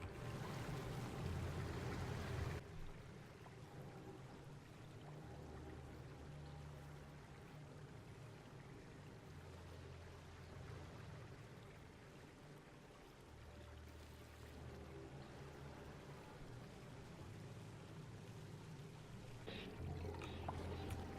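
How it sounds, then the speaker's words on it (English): Hot water pours steadily into a holding tank in Oxygen Not Included, a soft continuous flowing wash with faint low hums that come and go, heard throughout at low volume. "let's let the hot water go down, and that will slowly make its way"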